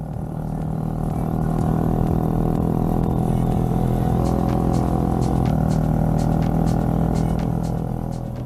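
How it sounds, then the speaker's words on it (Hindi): Motorcycle on a touring ride from Islamabad toward Skardu, Pakistan, pulling hard along a road: a loud, steady engine roar with wind rush, heard close up from the rider's seat, continuous with no speech. "इस एरिया में बंदे का दिल करता है बाइक को खींचने का"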